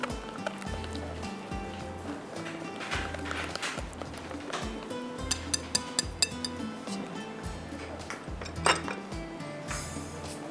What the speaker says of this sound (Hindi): अच्छी तरह से आपने इसको मिक्स करना है।